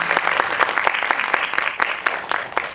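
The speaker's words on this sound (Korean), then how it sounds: "큰 박수 부탁드립니다." Steady applause from a crowd at a film festival opening ceremony, dense and continuous clapping at moderate loudness with no talking.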